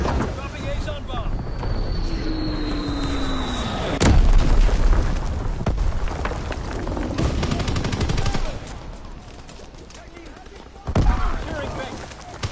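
A warship's primary battery fires in a naval video game, heavy booming blasts against a rushing wind and water background, with a loud report near the start and another later, while voices talk.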